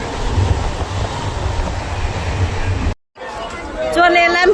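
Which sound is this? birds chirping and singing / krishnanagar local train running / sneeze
krishnanagar local train running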